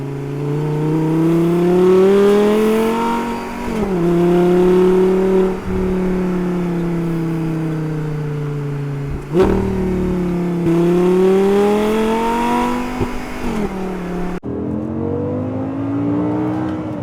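A high-revving Audi R8 V10 engine accelerating hard in second gear, pitch climbing steadily with brief drops at gear changes, loud and close throughout.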